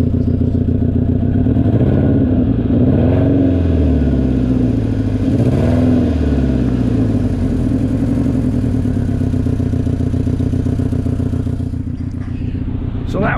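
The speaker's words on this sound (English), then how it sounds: "I will now get out and let you listen to the motor. Just gonna let you put down. It sounds like it needs some exhaust work" A 2010 Chevrolet Aveo 5 hatchback runs at a rough, throaty idle close by, its loud exhaust needing repair and swelling with a couple of light revs, the steady rumble continuing throughout.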